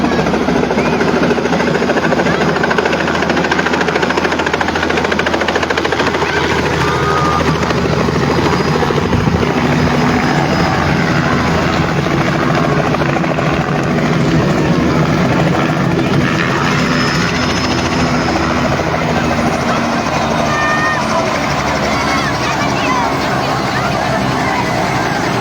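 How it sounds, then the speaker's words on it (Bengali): A helicopter lands nearby with a loud, steady roar of rotor and engine that holds throughout, while a crowd murmurs and people talk underneath. "এই যে দেখতে পাচ্ছেন হেলিকপ্টার এই মুহূর্তে ল্যান্ড করবে"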